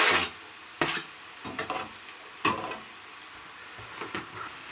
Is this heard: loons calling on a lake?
no